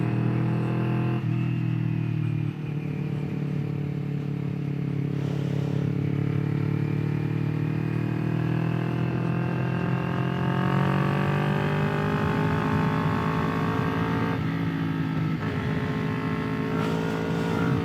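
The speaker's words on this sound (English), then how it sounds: "with that Austin racing pipe on there, we got some good noise going on" A 2021 Kawasaki Ninja 400 motorcycle fitted with an Austin Racing exhaust pipe: a loud, close engine note climbing steadily through the gears, with rising revs, brief drops at each shift and a raspy, aggressive exhaust tone.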